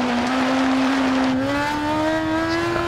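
A 2004 Yamaha R1 motorcycle in the racing game RIDE 4, its engine droning loudly and steadily as the pitch climbs gradually while it accelerates, with no talking.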